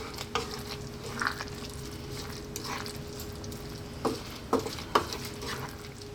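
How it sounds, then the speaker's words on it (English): A spoon stirs fresh mint into a simmering yellow pea vegetable stew, with a soft bubbling sizzle and a few sharper clinks and scrapes, moderately close. "Let me give that a stir in."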